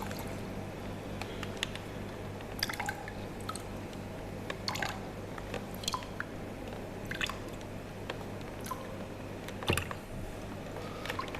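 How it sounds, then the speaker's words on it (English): Water trickling and dripping out of a Morphy Richards Power Steam Elite steam generator into a sink as the unit is gently twisted, with irregular splashes and gurgles over a steady low hum, close by. "make sure all that water does come out"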